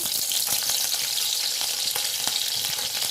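Curry leaves fry in a little hot oil in a pan for a roadside-style mushroom masala, producing a steady, close sizzle and crackle with faint stirring scrapes underneath.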